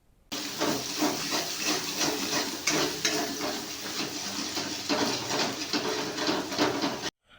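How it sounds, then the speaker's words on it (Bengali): Eggs are cracked into a pan beside onion and spices for a Bengali-style tadka and hiss in a loud, continuous sizzle that starts abruptly and cuts off just as suddenly. "এবার মশলা পেঁয়াজটাকে এক সাইডে করে দিয়ে তার মধ্যে ডিম ভেঙে দিতে হবে।"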